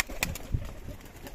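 Pigeons coo softly in a loft, a few low throaty calls with a brief flutter, heard up close.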